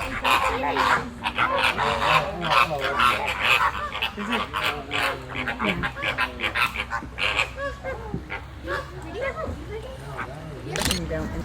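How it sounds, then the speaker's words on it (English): Loud, busy calling from a crowd of birds at Homosassa Springs State Park, Florida, harsh honks and squawks overlapping almost continuously, with voices talking among them. "Some of the noisiest, prettiest birds ever."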